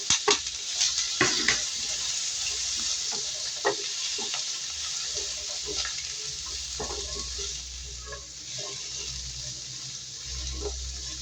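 Potatoes and carrot browning in a pan for Filipino pochero sizzle with a steady hiss, broken by scattered clicks and scraping stirs, close and fairly loud, without talking.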